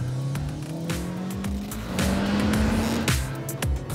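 A Kia Picanto on a fast test lap, its small engine droning and rising in pitch as it accelerates, with tire noise and gear changes, heard from inside the car.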